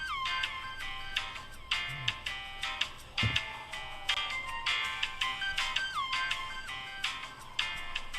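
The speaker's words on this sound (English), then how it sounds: "I've heard worse ringtones." A phone ringtone with a jungle flair plays a repeating bright, bell-like melodic ditty, loud and steady throughout, with a brief low thump partway through and no talking.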